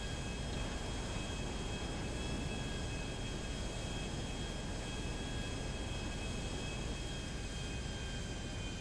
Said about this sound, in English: It's been ages since I've flown a plane on here